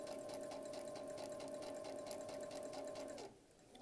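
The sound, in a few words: sewing machine stitching cloth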